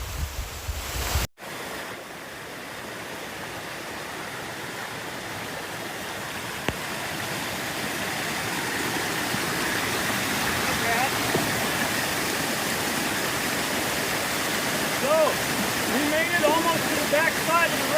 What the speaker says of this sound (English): This is another natural waterfall.